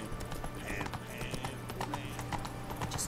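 Roach, the horse in The Witcher 3, trots with a steady, rhythmic clip-clop of hooves under a continuous game soundtrack and ambient hum, brief and fairly close.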